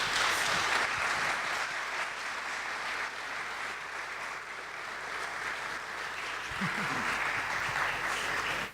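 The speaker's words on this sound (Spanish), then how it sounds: "¿Qué le parece si les damos un aplauso?" Audience applause at a literary interview event in Valparaíso, a steady broadband wash of many hands clapping that holds for the whole stretch, with a faint voice briefly audible underneath near the end.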